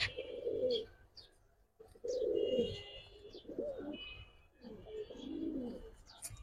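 A female Giribaz highflyer pigeon coos close by in soft, throaty bursts, three or four rolling calls separated by short pauses.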